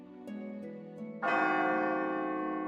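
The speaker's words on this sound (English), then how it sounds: "The bell rings." A school bell in a video game rings for afternoon classes, a sustained resonant metallic tone that swells suddenly louder partway through and lingers, with no talking.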